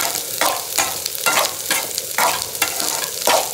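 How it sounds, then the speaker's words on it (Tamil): Spinach sautéing in a hot pan, stirred with a spoon: a run of about eight rhythmic scraping strokes over a constant close sizzle, with no voices. "இது வதங்கிட்டு கீரையை ஒரு பெரட்டி விட்டுடலாம்"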